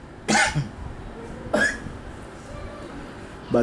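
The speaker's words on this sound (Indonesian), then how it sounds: "Batuk lagi, minum dulu." Two sharp coughs about a second apart from a man giving a religious lecture, close to the microphone, followed by the start of a third at the very end.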